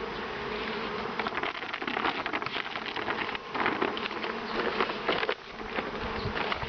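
Honey bees buzzing during a beehive inspection, a dense continuous swarm drone, fairly close and steady, with occasional louder passes and faint rustling; no one speaks.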